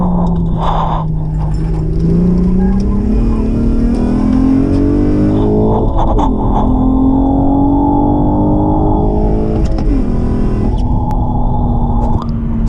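Acura TL with a manual gearbox and SH all-wheel drive accelerating hard, the engine note climbing steadily and dropping at each gear change before rising again, loud and close from inside the cabin.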